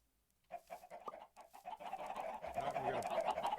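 Chickens cluck and squawk in a video game, starting after a short silence and building into a dense, continuous flock chatter that grows louder toward the end.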